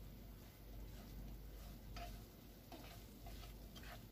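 Dried mint, turmeric and fried onions sauté in a pan for Davood Pasha stew, giving a steady close sizzle with occasional scraping stir strokes throughout.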